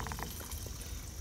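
Water streaming out of a ballistic gel block after it was shot with a Winchester Ranger T-Series 9mm 147-grain JHP round, heard as a steady, close pouring trickle with no talk.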